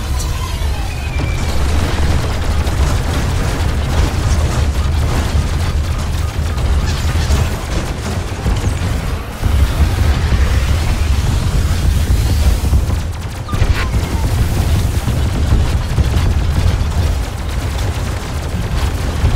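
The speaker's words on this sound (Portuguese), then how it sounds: "Explodiu mais um." Robocraft battles rumble with dense, loud explosions and booming blasts, a continuous thunderous roar with several heavier impacts spread across the scene.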